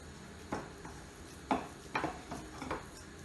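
Almond filling for makrout being mixed with egg white and cinnamon in a bowl: soft scraping broken by about six light utensil clinks at an uneven rhythm, quiet and close, with no talking.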